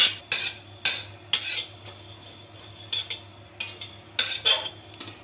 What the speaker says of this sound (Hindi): इसे भी हाई फ्लेम पे लगातार चलाते हुए भूनेंगे।